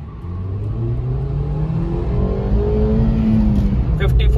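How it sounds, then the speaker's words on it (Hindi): A Hyundai i10 Nios pulls hard in first gear, its engine note climbing steadily in pitch as revs build, close and fairly loud. "पहला गियर लग चुका है, एसी ऑफ रहेगा, एसी ऑफ रखूंगा। और पहले गियर में देखेंगे कितना जाएगा"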